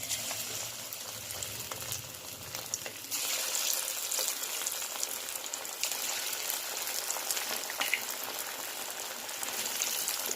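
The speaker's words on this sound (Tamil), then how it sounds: "இப்போ இதை நம்ம நல்லா டீப் ஃப்ரை பண்ணிக்கலாம்." Marinated chicken kabab pieces deep-fry in hot oil on a tawa over a stove, a faint, steady bubbling sizzle with a few soft clicks and a slight swell in intensity partway through.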